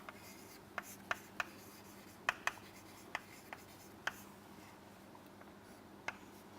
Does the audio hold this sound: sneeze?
no